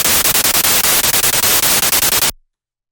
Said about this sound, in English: it's just a bit of a white noise inside of operator